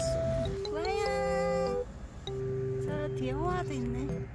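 A stray cat meows repeatedly, drawn-out rising and falling cries close by, with soft background noise between calls.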